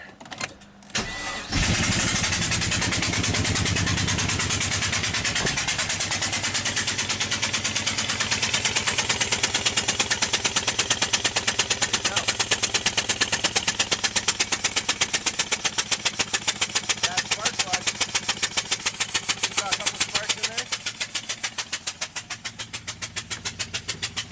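A loud Pontiac GTO V8 with one cylinder open to the atmosphere starts with a sputter, then runs hard and steady with a rapid, harsh, popping rhythm, continuous for about twenty seconds before easing slightly.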